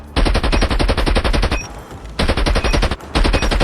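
A light machine gun in the mobile shooter Call of Duty Mobile fires long, rapid automatic bursts up close, loud and dense, with brief pauses between three sustained strings of shots.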